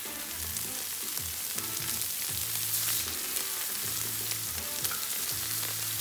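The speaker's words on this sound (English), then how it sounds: "So now we're going to do the scallops." Scallops sizzling on a discada, a steady crackling fry with faint clinks of stirring, no voices over the sound.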